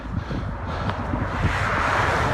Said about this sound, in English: it's going to be windy here at the very beginning